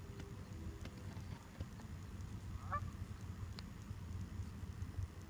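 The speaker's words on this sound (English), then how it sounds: "listen to the mother and father talking to them and flapping their wings" Parent waterfowl call to their young on the Snake River, giving a few faint, brief honking notes over a steady low background rumble.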